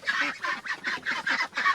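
Repeated loud honking calls from ducks and turkeys, six bursts in quick rhythmic succession, close by with no talking.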